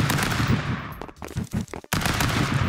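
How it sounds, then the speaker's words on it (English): AK fire in the Stick Fight video game, dense rapid automatic bursts, loud and close, broken by a short gap of scattered shots and a sudden cut before the firing resumes. "You're shooting an AK at me."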